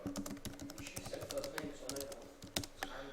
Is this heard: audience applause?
no